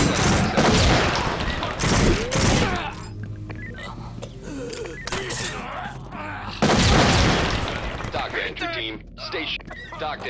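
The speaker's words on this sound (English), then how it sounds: "these guys are shooting each other" Gunfire rattles in bursts during a shootout in a video game set in a nightclub, with loud shots near the start and again mid-clip under police radio chatter and voices.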